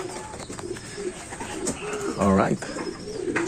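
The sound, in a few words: racing pigeon cooing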